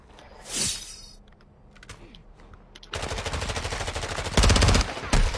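Bursts of rapid automatic gunfire in a shooter video game, loud and dense, starting after a few quieter in-game sounds and growing heavier toward the end, with no talking.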